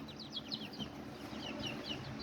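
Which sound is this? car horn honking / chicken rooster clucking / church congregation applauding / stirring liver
chicken rooster clucking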